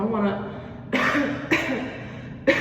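A person demonstrating respiratory hygiene gives several sharp, forced coughs, presumably into an elbow, close to the microphone. Three abrupt bursts follow a brief moment of voice.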